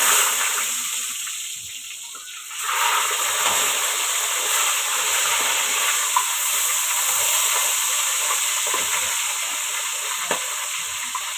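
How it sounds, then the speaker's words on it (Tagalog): Tilapia fries in hot oil, a loud, steady hiss and crackle of sizzling that holds without a break from start to finish, with nobody speaking. "So, ito yung aking panipreto tilapia."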